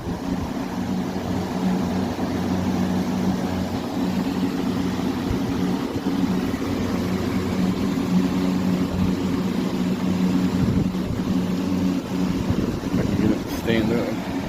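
A Lakewood fan with Brace blades runs on high, a steady whooshing airflow drone with a low motor hum, continuous and close, with a voice briefly heard underneath.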